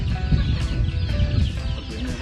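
Chickens being raised on a farm cluck steadily in several short, close calls over a low rumbling background, with no talk.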